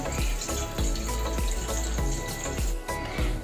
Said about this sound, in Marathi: त्यामुळे चांगले 2 पाण्यामध्ये त्याला चांगले धुवून घ्यायचं